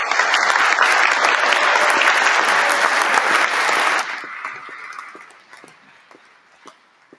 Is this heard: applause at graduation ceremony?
yes